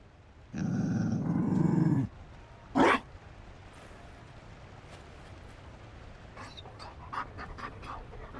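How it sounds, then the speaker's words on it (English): A Mabari war dog in the fantasy game Dragon Age Inquisition gives a close, heavy growling pant, then a short sharp bark, followed by faint scuffs and brief sounds over quiet background. "You found a dog?"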